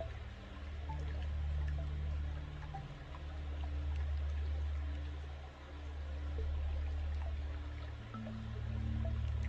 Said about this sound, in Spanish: Y con la ayuda de este sonido de agua,